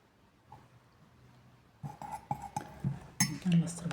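A spoon clinks against a cup while cinnamon is stirred into kefir, quiet at first, then a quick series of light metallic taps and scrapes, close and fairly faint.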